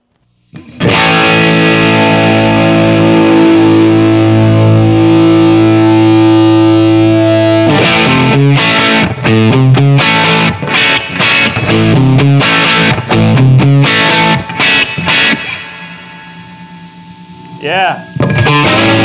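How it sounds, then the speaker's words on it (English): A cranked 1971 Marshall Super Lead 50-watt narrow-chassis guitar amp roars with heavy distortion, first a long sustained chord, then choppy chugging riffs, loud and close, ending in a brief bend before fading. "1971 50 watt Marshall Super Lead. This is a narrow chassis model, and it's cranked."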